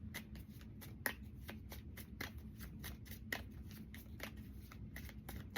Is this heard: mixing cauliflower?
no